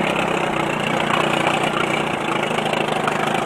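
A 1982 Evinrude 35 HP outboard motor on a 14-foot V-hull boat, running steadily at speed with a constant buzzing engine drone and rushing water, no talk.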